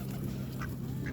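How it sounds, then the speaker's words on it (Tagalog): Wild ducks gathered close by give a couple of brief, fairly faint quacks over a low background rumble, with no talking. "nilapitan kami ng mga wild duck dito"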